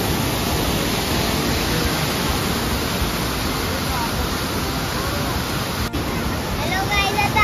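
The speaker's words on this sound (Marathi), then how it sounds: "आता आम्ही वॉटरफॉलला आलोय आणि हे खूप मोठं वॉटरफॉल आहे" Kanchenjunga Waterfall in Pelling, Sikkim, a large falls, roars as a dense, steady broadband rush that fills the whole stretch, loud and close, with a brief dip near the end and no speech.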